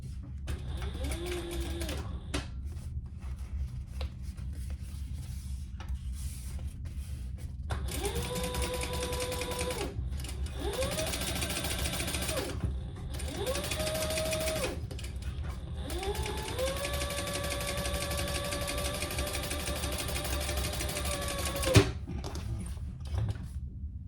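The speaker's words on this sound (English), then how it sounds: "we're gonna turn that up and top stitch on the top panel with the seam underneath it." A sewing machine topstitches a fabric wristlet panel in several bursts of rapid mechanical whirring, the final run longer and steady, with short quiet gaps between bursts and a faint click near the end.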